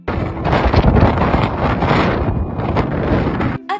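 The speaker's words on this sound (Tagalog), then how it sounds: "sobrang lakas ng hangin ng mga oras na to. Pakinggan nyo." Strong wind on the Jurassic Coast at Durdle Door, Dorset, roars and buffets the microphone continuously, a loud, rough rushing that barely lets up.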